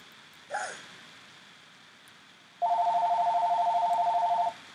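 A telephone close by gives a brief chirp, then after a pause a loud, steady electronic ring that pulses rapidly for almost two seconds before stopping, with a faint breath earlier.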